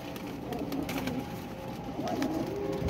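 Flying pigeons, their soft coos running under a steady outdoor hum with faint rustling, close and continuous, with no clear talking.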